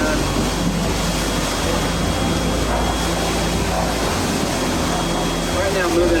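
Ocean waves rush and crash around a sailboat under autopilot crossing from Florida to the Bahamas at night, a steady loud wash of water mixed with wind noise, with voices heard talking over it.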